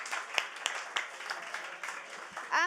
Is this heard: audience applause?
yes